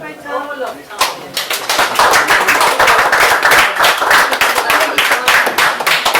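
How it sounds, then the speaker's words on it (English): A small pub audience at a poetry reading in a Limerick bar claps in a crisp, close patter of individual hands, rising after a brief moment of talk and continuing steadily. "we'll keep the applause going for a second"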